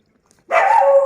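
A dog barks once on an empty street late at night: a single loud, close bark that starts abruptly after a moment of near silence and holds briefly.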